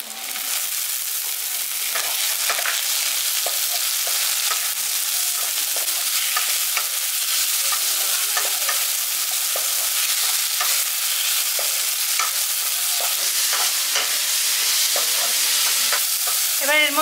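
Chopped tomato sizzles loudly in a pan with potatoes and ginger-garlic paste for a village-style brinjal potato masala, a steady frying hiss broken by frequent spatula scrapes and stirring clicks, with no voices.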